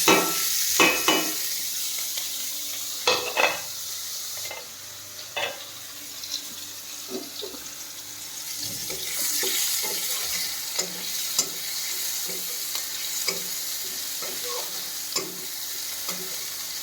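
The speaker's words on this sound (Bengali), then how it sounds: "দেখো পেঁয়াজটাকে ভেজে নিয়ে লাল লাল করে" Onions frying in a pan until reddish, a loud hiss at the start settling into a steady sizzle, with intermittent spatula scrapes and clinks close by and no speech.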